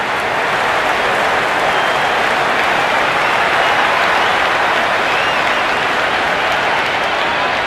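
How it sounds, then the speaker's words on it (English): Crowd cheering and applause in the Cricket 26 video game during an India versus Pakistan T20 World Cup match, a dense, loud, unbroken wash of noise throughout. "The crowd is electric right now."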